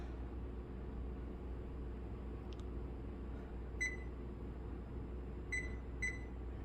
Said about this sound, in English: I'm gonna start the timer